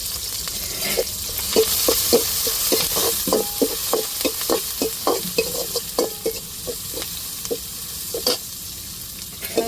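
Garlic and curry leaves sautéing in hot oil for a fish curry, a steady sizzle broken by rapid, evenly spaced scraping taps of a spatula stirring the pan, close and alone without speech.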